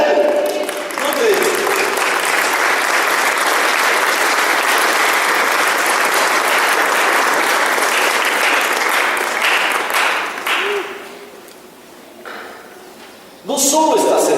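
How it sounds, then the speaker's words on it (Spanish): Church audience applauding, a long loud burst of many hands clapping with cheers mixed in that fades near the end, before a voice returns. "Entonces le damos un aplauso a Él."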